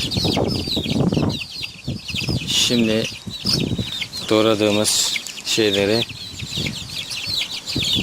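A hen with fifteen chicks about a month old peeps and clucks steadily in the background, high chirps threading beneath someone talking close by, with a few lower calls standing out briefly.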